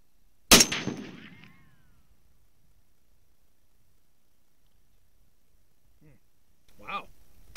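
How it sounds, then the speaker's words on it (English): A single shot from a Springfield M1A rifle firing Winchester M80 7.62 NATO ammunition on an outdoor range, one sharp loud crack with a short ringing decay, followed by silence and then a brief voice. "I'm going to fire one more shot like I did"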